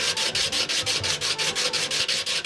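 A Stanley 151 spokeshave blade is rubbed back and forth on 180 grit abrasive, giving loud, steady rasping strokes in a quick regular rhythm, about five per second, with no talking.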